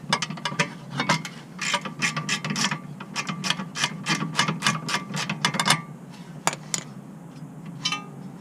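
A hand wrench ratchets a bolt loose on the brake of a 1994 Acura Integra, giving rapid bursts of close, crisp clicking in uneven runs with brief pauses, then a few isolated clicks near the end.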